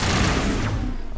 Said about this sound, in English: This gun is crazy good.